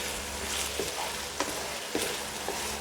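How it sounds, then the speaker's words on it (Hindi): Cubed chicken frying on medium heat, an even, close sizzle with spatula scrapes every half second or so, no one speaking. "अब इसको मीडियम आंच करके अच्छी तरह इसको भून लेंगे जब तक हमारे चिकन का कलर चेंज नहीं होता"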